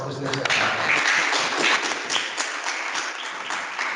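An audience applauds a professor at the close of a talk, producing a broad, sustained wash of clapping with voices mixed in.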